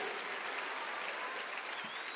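A live audience's applause at a Steve Harvey event in Botswana, steady dense clapping filling the room throughout, even and sustained with no voices.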